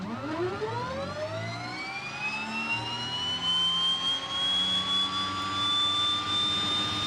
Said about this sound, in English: you really do forget how loud the old Twin Otter is sometimes